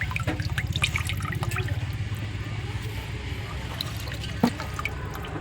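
Water is poured and splashes over raw desi chicken meat being washed in a bowl, a close, bubbling gush followed by lighter trickling and drips.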